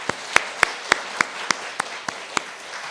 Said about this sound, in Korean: 새해도 좀 열심히 수고해 주십시오라고 하는 격려의 박수를 하겠습니다.